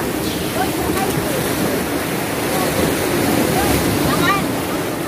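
Sea waves wash in at a beach cave, a constant loud roar of surf with heavy wind rumble against the microphone and no clear breaks between swells.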